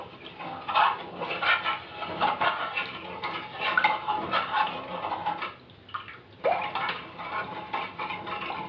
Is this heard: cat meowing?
no